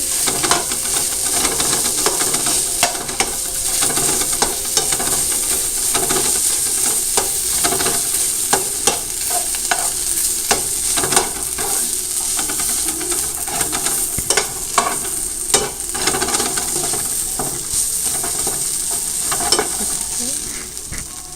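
Beetroot and carrot with grated coconut are sautéed in a pan, a long, steady sizzle and hiss punctuated by frequent scraping stirs of the spatula, close and without speech.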